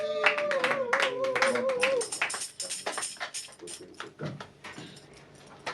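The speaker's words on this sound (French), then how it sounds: "Applaudissons pour le Seigneur." A church congregation claps for the Lord after a sermon, a burst of brisk applause mixed with a voice at the start, then thinning to scattered claps that fade toward the end.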